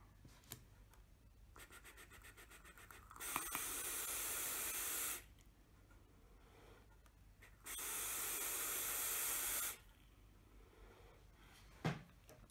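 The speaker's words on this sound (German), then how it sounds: "So, jetzt dampfen wir ihn mal." Two sustained hissing draws, each about two seconds long, come from an e-cigarette fired on a Smoant Charon TS 218 touch-screen mod. They stand out clearly above a quiet background with small clicks.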